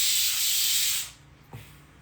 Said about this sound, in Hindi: प्रेशर कुकर सिटी मार रहा है, वो छोले उबाल रहे ना